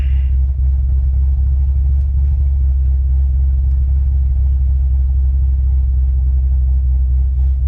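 A C6 Corvette with a six-speed and a Trick Flow top end kit idles after startup, a loud, steady, deep engine rumble that holds evenly throughout with no talking.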